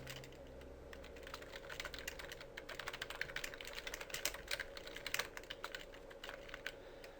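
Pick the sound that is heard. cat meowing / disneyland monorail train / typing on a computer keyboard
typing on a computer keyboard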